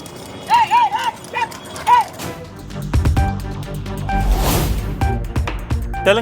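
Bullock carts and horse carts race along a road, with hooves clattering and a few sharp whinnies up front, then a dense, loud rush of hooves, wheels and crowd noise.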